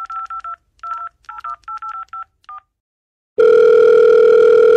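Touch-tone telephone keypad beeps in quick clustered bursts as a number is dialed, followed after a short pause by a steady, loud ringback or line tone.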